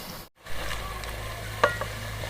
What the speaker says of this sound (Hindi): अदरक और सब्ज़ मिर्चों का पेस्ट 3 से 4 चम्मच। 2 से 3 मिनट के लिए इसको पकाएंगे।